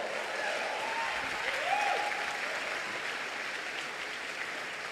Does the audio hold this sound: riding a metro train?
no